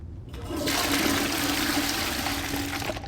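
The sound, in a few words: toilet flushing in the video game Hogwarts Legacy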